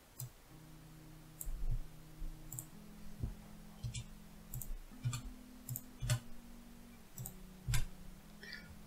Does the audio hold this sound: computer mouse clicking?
yes